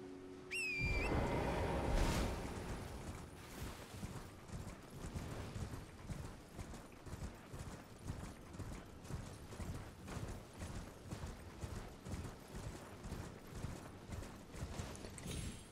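Horse hooves clop in a fast, steady galloping rhythm during mounted combat in the video game Elden Ring, opening with a bright metallic ring and a heavy impact, then continuing evenly throughout.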